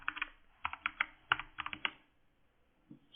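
Quick bursts of typing on a computer keyboard as a search term is entered, with crisp, close clicks clustered over about two seconds, then a short pause and one last soft tap.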